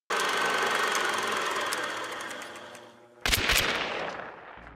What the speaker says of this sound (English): What are you shooting him with? Centennial.